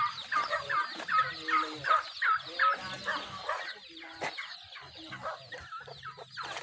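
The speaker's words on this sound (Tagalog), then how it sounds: "May sisiw tayo dito mga kabrad." Chickens and chicks cluck close by in a farmyard, with a steady run of rhythmic clucks at first, then softer scattered calls.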